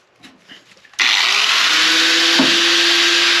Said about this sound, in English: I'm going to cut the bolts that are up here, and then we're just going to probably just cut the shackles also